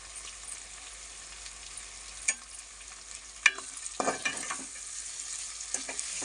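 A spoon stirs biryani masala with turmeric in a hot pan, with a steady sizzle of frying throughout and occasional scraping knocks of the stirring, no voices.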